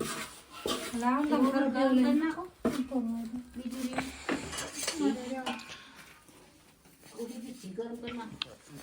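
A spoon scrapes and clinks against a metal pan as ghee is stirred while making laddu, repeated clatter mixed with a person talking.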